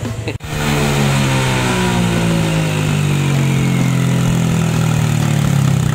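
A Honda Click 125 scooter with an ECU remap and Yoshimura exhaust starts with a sharp blip, then holds a loud, close, sustained rev whose pitch slowly climbs, with no voices.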